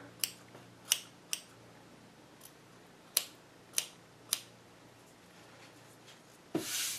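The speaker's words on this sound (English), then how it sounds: "take your scissors and still do a little bit more trimming wherever you think he might need" Scissors trim a small pom pom snowman ornament with several crisp, separate snips spaced irregularly, quiet and close in a still room, with a louder rustle at the end.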